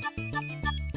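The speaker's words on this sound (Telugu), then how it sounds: "సురేష్ నాకు ఫోన్ చేస్తున్నాడంటే" A mobile phone plays a ringtone for an incoming call, a bright melodic tone pattern of short repeating notes that is clear and close, with no speech.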